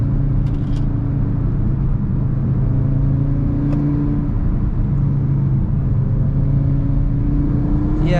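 Audi RS3 heard from inside the cabin while driving and accelerating, a loud, steady engine drone and road rumble with a slowly rising pitch, no talking.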